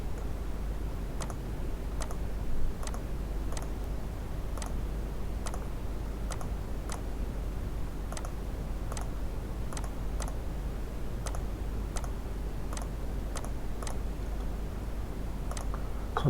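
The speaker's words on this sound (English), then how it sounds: "if I press DI on my keyboard" Keys tapped on a computer keyboard while working in Revit, sparse separate clicks at an uneven pace over a steady low room hum, fairly quiet and with no voices.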